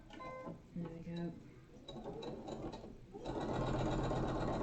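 A sewing machine stitches a crossbody bag, its motor whirring up into a steady, louder run after a quieter start, with a person talking over the first part.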